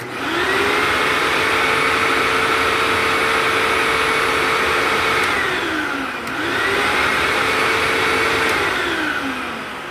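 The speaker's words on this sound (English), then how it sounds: "So here comes the Hoover wind tunnel, premium, self-propelled, in 3, 2, and 1." A Hoover WindTunnel premium self-propelled upright vacuum cleaner roars continuously, its motor pitch sagging and recovering briefly partway through, loud and close with no talking.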